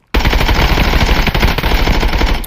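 Rapid automatic fire from a 5.56x45 rifle in the shooter game Contractors Showdown, a loud, dense burst of shots running continuously for over two seconds and close to the listener.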